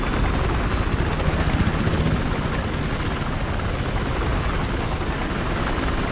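Helicopters in the video game Battlefield Hardline give off a loud, continuous rotor chop and engine roar that stays steady throughout, with no talking over it.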